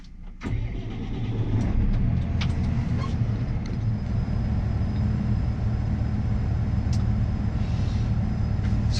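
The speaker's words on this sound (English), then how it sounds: "We're going to take the tractor for a drive" A Massey Ferguson 8S.265 tractor with a power shift transmission drives under a steady, loud low engine drone heard from inside the cab, with faint clicks and rattles over the top.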